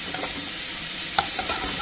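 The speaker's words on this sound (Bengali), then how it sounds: "ভালো করে একটুখানি ধীরে ধীরে ভালো করে মিক্স।" Food frying in a pan is stirred and mixed, giving a brief, close burst of steady sizzling with a few light scraping clicks from the spoon.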